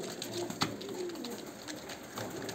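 Several pigeons coo softly nearby in a loft, low throaty calls overlapping in a steady murmur with a few sharper clicks and flutters.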